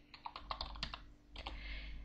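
Someone types on a computer keyboard while playing Aardwolf MUD, a quick run of close, clicky keystrokes, a short pause, then another burst.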